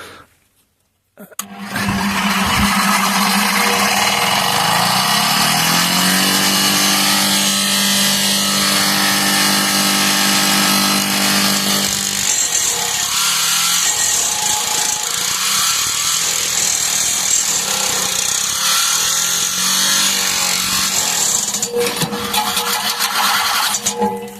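A cheap gasoline wood chipper and branch shredder starts up and runs loud and close, shredding freshly cut branches about 3.5 cm thick, its engine labouring and dropping in pitch as it bogs down, then roaring on steadily with grinding crunches.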